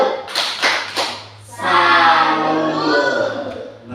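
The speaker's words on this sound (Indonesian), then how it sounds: "mari kita tepuk salut untuk diri kita sendiri" A few sharp claps land in rhythm, then a group bursts into sustained applause, loud and close, fading slightly toward the end.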